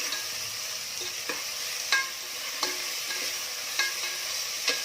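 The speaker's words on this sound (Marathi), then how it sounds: "तर आता या तेलामध्ये कांदा टाकून रंग बदलेपर्यंत छान भाजून घ्यायचा आहे." Sliced onion fries in hot oil for chicken masala, a steady close sizzle with a few soft scraping stirs of a spoon in the pan at regular intervals.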